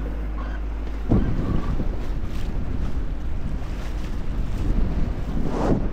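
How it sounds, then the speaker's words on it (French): Strong wind buffets the microphone over the wash of open water, with gusts and thumps of a boat moving at sea between Corsica and Sardinia. "Violent hein, ce vent"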